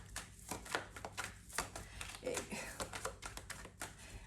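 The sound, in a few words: shuffling tarot cards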